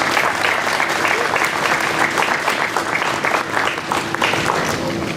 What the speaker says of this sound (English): give a loud round of applause for Vice President of Council 66, Bill Slocu